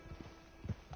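A horse walks close by with a few soft, irregular hoof clops on a sparse, quiet ground.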